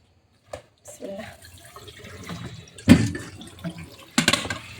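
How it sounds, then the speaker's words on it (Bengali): Water drains and splashes off a pot of boiled ramen noodles in a home kitchen, arriving in two short, fairly loud gushes after quieter clattering, with faint background voice. "এই যে পানি ঝরাতে দিয়ে দেব"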